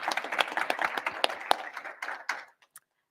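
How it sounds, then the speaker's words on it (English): A short burst of clapping from a small group at an economics conference, brisk and close, thinning out and stopping within a few seconds. "Can you please give Karen a round of applause?"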